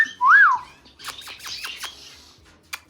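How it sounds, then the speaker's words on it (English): Pet bird calling indoors, opening with a loud rising-and-falling whistle followed by a quick run of sharp chirps and squawks, then a final short peep, all close by. "He's such a good bird."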